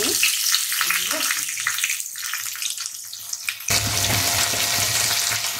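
Chopped onions with a little salt fry in a hot pan for a Bengali aar fish dish, giving a loud, continuous close sizzle that swells even louder partway through, with no talking.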